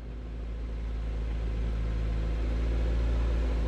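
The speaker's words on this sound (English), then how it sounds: "I'm going to gently kind of pour on the accelerator." 2023 SUV with all-wheel drive accelerating on test rollers, a steady close engine and drivetrain drone with deep rumble, holding level and rising slightly as power is applied.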